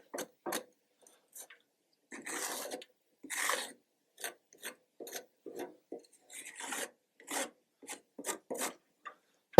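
A scraper grates residue off the metal of a Recteq Bullseye RT-B380 pellet grill in a series of short, dry, rasping strokes with brief pauses between, close and fairly quiet.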